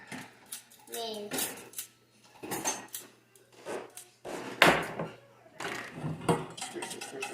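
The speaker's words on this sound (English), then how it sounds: "Add the mix and stir until smooth." Donut batter stirred in a bowl, with repeated scraping and clinking of a utensil against the bowl while an adult and someone talk over it.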